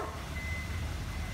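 A big truck's reversing alarm sounds in a steady, high electronic tone over a low rumbling engine, close by and continuous for the short stretch.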